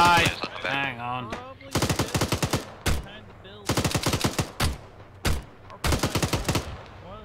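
Rapid automatic gunfire in Arma 3, a military video game, crackling in several loud bursts of fast shots separated by short pauses, with a brief bit of voice at the start.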